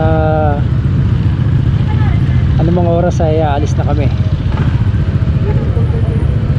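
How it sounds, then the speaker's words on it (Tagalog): Several motorcycles on a group ride idle and warm up together in a steady, loud, rumbling drone. Someone talks over the engines throughout. "papainit na kami ng aming mga motor"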